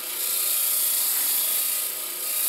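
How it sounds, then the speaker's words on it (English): Stick-on sanding pads rub against a wood-turned piece spinning on the lathe, giving a steady, even friction hiss that runs throughout without pauses. "Next, we're gonna do a little sanding."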